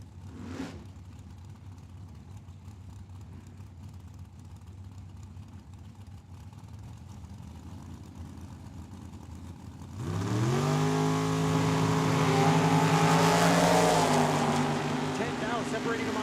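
Drag race launch at Tucson Dragway, a 2005 Pontiac Grand Am against a dragster: a low idling rumble gives way at about ten seconds to a loud, sustained engine roar climbing in pitch, with an announcer talking over it.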